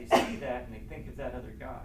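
A single short, sharp sneeze breaks in at the very start, then continuous talking follows during a Torah study discussion.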